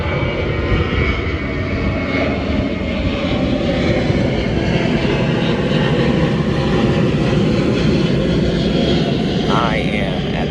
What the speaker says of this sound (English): Here's an airplane coming.